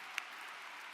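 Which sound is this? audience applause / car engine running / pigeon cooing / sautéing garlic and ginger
audience applause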